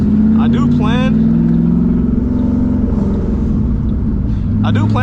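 A loud 2007 Mustang GT V8 engine drones steadily throughout, a deep continuous rumble with a voice talking over it at the start and end.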